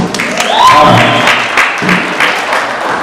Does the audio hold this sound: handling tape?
no